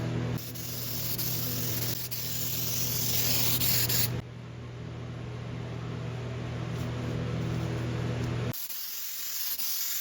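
A heavy coat of spray glue going onto cut foam for a go-kart seat, a close, loud, steady hiss that runs in two long bursts, then cuts off into a softer hiss.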